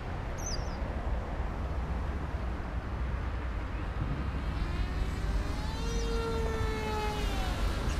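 Electric motor of an FT Goblin Plus RC airplane with a 1300mm wingspan, heard from the ground as a whine that rises in pitch as the throttle opens, carried over steady wind noise and mid-distance.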